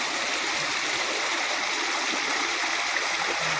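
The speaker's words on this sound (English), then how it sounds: "Oh, you put your feet in the water?" A shallow outdoor stream rushes steadily with a dense, continuous hiss of flowing water, fairly loud and close, with only faint hints of splashing from feet in the water.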